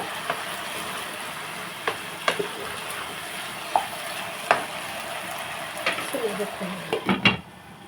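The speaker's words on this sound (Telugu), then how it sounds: "ఒకసారి కలుపుకొని బెండకాయ కూర" Okra curry gets stirred in a pan on the stove, soft sizzling running underneath while a spoon scrapes and taps the pan in scattered bursts, close and fairly quiet, ending in a quick flurry of clinks.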